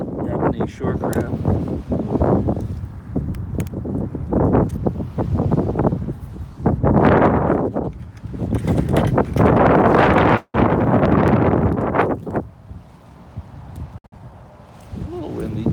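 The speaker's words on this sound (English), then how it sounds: "A little windy today, but it's not too bad." Strong gusts of wind buffet the microphone in loud, rumbling waves, rising and falling, with surf faintly underneath on a beach at Fort Wadsworth.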